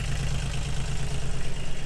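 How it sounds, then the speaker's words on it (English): A small 3-cylinder diesel engine idling on a farm after warming up, a loud, close, steady low rumble with a fast, even pulsing throb and no speech. "It's a little 3-cylinder diesel engine in here."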